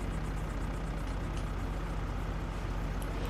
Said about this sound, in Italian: azionato il motore